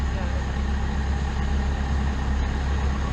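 A Schwing BPA450 concrete pump's engine idles in a steady, even low rumble throughout, close and unbroken, with no other prominent sounds.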